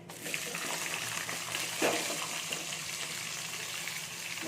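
Cut potatoes drop into a pan of frying whole coriander and spices, giving a steady broadband sizzle with a brief louder hiss near the middle, close and continuous with no talk.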